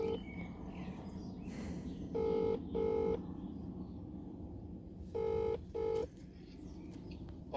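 A phone number is dialed on a bricklaying job site: two pairs of loud, short keypad tones sound over steady outdoor background noise with faint birds.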